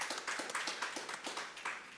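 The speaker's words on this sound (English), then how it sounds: "Quite right to a round of applause." Scattered, fairly faint hand clapping at a Romanian government roundtable, a small group tapping out a loose, steady patter of separate claps with no voices over it.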